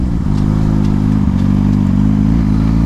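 Suzuki GSX-R600 motorcycle engine lugging at low revs in sixth gear around 30 mph, a steady loud low rumble with continuous wind and road noise.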